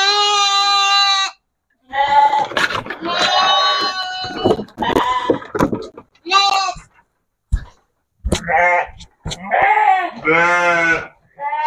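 Sheep bleat repeatedly, a cross between fat-tailed and local breeds, with loud, wavering calls from several animals overlapping in bursts, separated by short quiet gaps.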